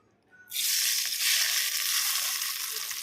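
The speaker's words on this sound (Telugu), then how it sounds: "ఇప్పుడు పోపు పెడుతున్నా నేను ఏంటంటే ఇలా జీలకర్ర ఆవాలు ఎండిమిర్చి ఇవన్నీ వేసుకున్నా" Cumin, mustard seeds and dried red chillies hit hot oil for tempering, setting off a sudden loud sizzle that holds steady and bright for several seconds, close up and with no voices.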